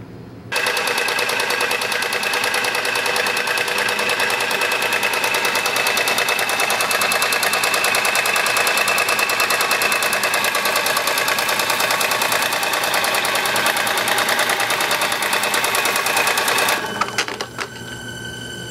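An engine fitted with hardweld followers on a test camshaft idles at roughly a thousand rpm, a dense, fast mechanical clatter of valvetrain ticking running continuously and loud until it cuts off abruptly near the end.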